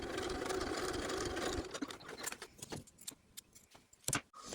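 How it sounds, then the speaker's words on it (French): Sewing machine stitching a small holding seam 5 mm from the edge of a small fabric purse, a short burst of fast whirring stitching that stops partway, followed by faint clicks and handling sounds. "Donc là on fait juste une petite couture à 5 mm du bord."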